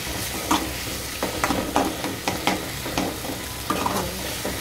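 Ginger paste sizzles as it fries in a pan for a potato curry, with a spoon stirring and scraping in repeated close strokes over a constant hiss.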